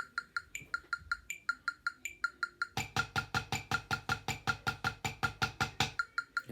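Crisp stick strokes on a practice pad in an even, quick single- and double-stroke pattern that switches partway through to a denser, louder run of rapid strokes.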